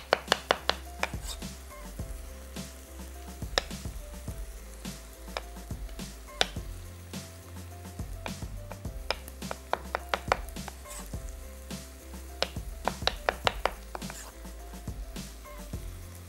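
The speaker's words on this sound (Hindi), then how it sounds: "थोड़ा सा छोटा काट लें उसको।" A knife chopping food into small pieces on a board in a home kitchen, quick irregular taps in bursts, fairly close but soft, with faint sizzling in the background and little talk.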